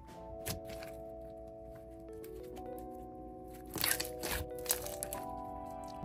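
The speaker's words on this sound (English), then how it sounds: "I can still hear the pasta crunching." Dry pasta crunching and cracking as it is squished into slime, several sharp crunches and crackles near the middle and end over a tonal music background.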